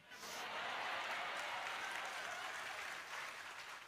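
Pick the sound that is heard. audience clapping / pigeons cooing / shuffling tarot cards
audience clapping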